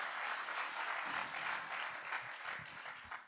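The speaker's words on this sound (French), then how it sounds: "Allez, on peut l'applaudir." An audience at a conference applauds a speaker after his presentation, a faint, distant, continuous patter of many hands clapping for a few seconds.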